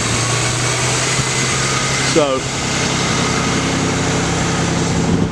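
A 1934 Ford two-door sedan with a stock GM V6, electric choke on and dual exhaust, idles steadily and fairly loud, with someone speaking briefly over the engine hum.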